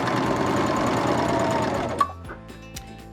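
A Vibrant sewing machine stitching custom piping cording runs at a steady, close, whirring hum, then stops, leaving a few faint clicks and taps.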